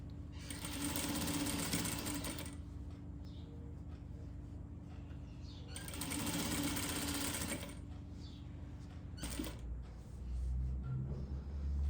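A sewing machine stitches pom-pom trim onto knit fabric in close, loud whirring bursts of a couple of seconds each, separated by quieter pauses with faint handling noise.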